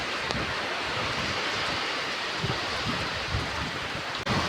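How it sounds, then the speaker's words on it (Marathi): Steady roar of heavy rain and strong wind outdoors, a dense, unbroken wash of noise with occasional gusty swells and a short dip near the end, no voices. "पाऊस बी आहे, वारा बी लय."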